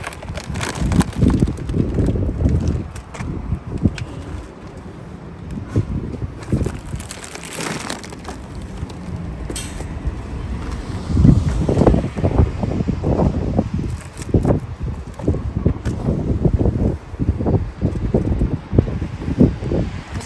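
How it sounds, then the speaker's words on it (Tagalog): Strong wind buffets the microphone in rough, roaring gusts, mixed with rustling and crunching noises nearby. "Kasi lakas ang hangin."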